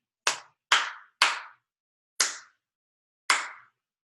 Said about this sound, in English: I'll clap it one more time.